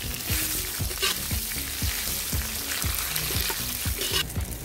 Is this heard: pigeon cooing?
no